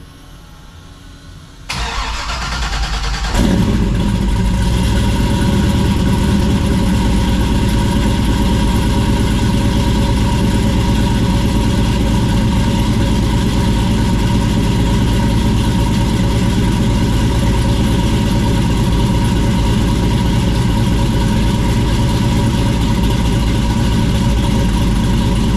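A Chevrolet LS-powered Camaro cranks over and fires up, then settles into a loud, steady, deep idle through a newly fitted exhaust without an H-pipe or X-pipe, close by and with no talk.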